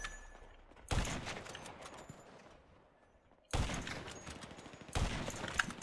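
Heavy sniper rifle fire in GTA 5 Online: two loud, sharp reports a few seconds apart, each followed by a rolling echo, plus a third burst near the end, with no talk over them.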